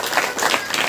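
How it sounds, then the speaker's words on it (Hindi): A church congregation claps hands together at a Saturday prayer meeting, a dense, continuous patter of many hands, loud and close with no clear voices. "ताली बजाकर"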